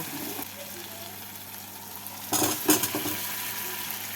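Fried potatoes being stirred into a cashew paste masala in a pan for vegetarian Kashmiri aloo dum, a low sizzle under a brief burst of scraping and clattering utensil contact near the middle.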